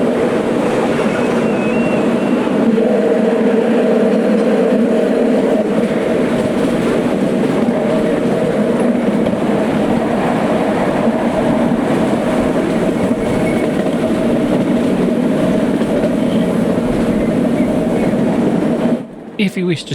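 A miniature train rumbles steadily along the rails, loud and close, with a continuous clattering roar that cuts off abruptly at the end.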